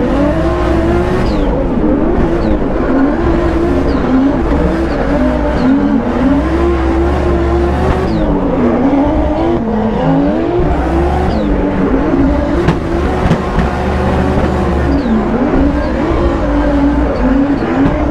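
A BMW E36 drift car holds full throttle in a drift competition, its engine screaming loud and close at a high wail that rises and dips with the revs, mixed with tire noise and no talk.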